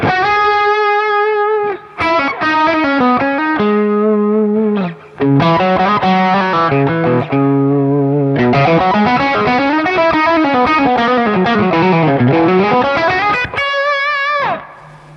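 An overdriven electric guitar through a Mesa Boogie Nomad 45 amp plays a sustained, singing lead line with bends and slides, thick distortion and smooth held notes, loud and up close.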